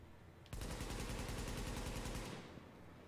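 A sustained automatic weapon burst of rapid, evenly spaced shots fires in The Division video game for about two seconds, then cuts off, with no talking.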